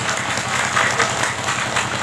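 Steady audience applause at an indoor Muslimat NU community gathering, a dense, loud wash of clapping lasting about two seconds without a break.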